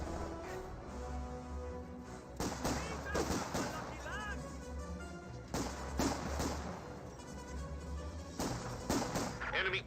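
MG42 machine gun bursts in Company of Heroes 2 rattle in several short volleys amid battle explosions, with a commentator talking over the action.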